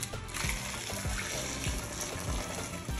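Hot water is poured into a pot of chicken for kabsa, a close, steady splashing trickle with gurgling bursts, moderately loud and heard without voices.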